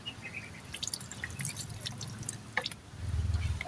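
Hot water pours from a plastic bottle, producing soft drips and trickling splashes that swell into a fuller pour near the end. The sound is fairly faint and close.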